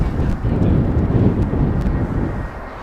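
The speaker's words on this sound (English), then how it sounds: "Incoming is an A319 from EasyJet." An easyJet Airbus A319 arriving from London on a crosswind approach to runway 18R at Amsterdam Schiphol gives a loud, rumbling low roar mixed with gusty wind buffeting the microphone, steady throughout without speech.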